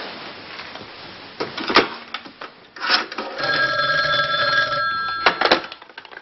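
A telephone ringing back on an outgoing call, a close electronic ring tone coming through in bursts, with handling knocks and clunks around it.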